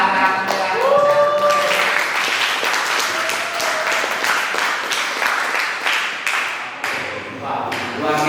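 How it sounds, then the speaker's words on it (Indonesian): Classroom applause for student presenters during an arts lesson, a few people clapping fairly near with an uneven rhythm over steady background sound, with voices heard throughout. "Saya tepuk tangan buat para"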